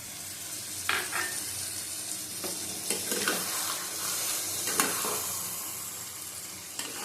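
Water added to frying poppy seed paste with dried chili paste in a pan, giving a bright continuous hiss with occasional scraping stir strokes and small clatters, close and without talk.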